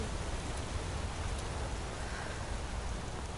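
Steady rain pouring down in the Skyrim video game world, a dense, even hiss of drops on the ground holding constant throughout, with no voices.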